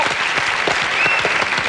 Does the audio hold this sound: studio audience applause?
yes